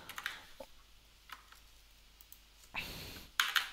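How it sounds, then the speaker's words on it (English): Keys on a computer keyboard are tapped in short, faint clusters of clicks separated by pauses, ending with a slightly louder burst of typing. "So let's type it one more time."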